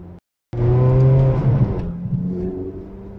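A Ferrari driven on a road pulls away hard, its engine revving loudly in a rising surge after a brief silence, then easing to a lower drone as it settles.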